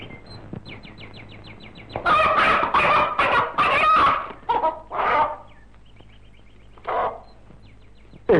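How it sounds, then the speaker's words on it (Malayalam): Chickens squawk and cluck in loud, agitated bursts as birds are grabbed from a coop, with softer clucking before and after the commotion and a final burst near the end. "മോനെ, നമ്മളെ കോഴിക്കൂട്ടുന്ന 2 കോഴിനെ പിടിച്ചോണ്ടോ ചെല്ലി."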